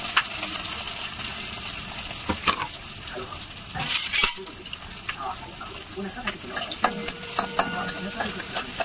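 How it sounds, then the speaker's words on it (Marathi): Onion frying and being stirred in oil in a pan for vegetable fried rice, with steady sizzling broken by scrapes and clinks of a spoon against the pan, close up throughout. "सगळ्यासाठी टाकलेला कांदा आपण थोडासा शिजवून घेऊया."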